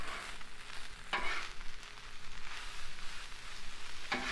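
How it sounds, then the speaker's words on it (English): Rice and bacon sizzling and frying on a Blackstone flat-top griddle while being stirred, a steady close crackle with two sharp scraping strokes of a spatula, no talk. "you're going to basically just fry your rice is what you're doing. Cooking your rice up a little bit"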